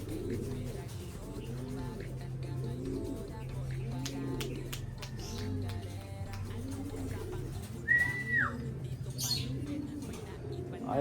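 Racing pigeons coo in a repeated, rhythmic series of low throaty calls, near and fairly loud, with a brief higher squeak late on and some faint background noise.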